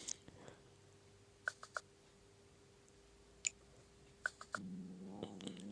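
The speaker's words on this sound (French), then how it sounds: "Je suis en train de rêver, mais en même temps, j'entends ces chats." Meows from cats in a video game, several short high calls scattered across a few seconds over a faint steady hum, with a low murmur of game sound near the end.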